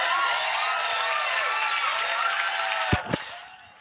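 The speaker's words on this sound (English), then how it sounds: "People are really cheering for him." Studio audience at a late-night talk show applauding and cheering for the returning host, a dense, steady roar of clapping and whoops that holds loud, then breaks off and fades near the end.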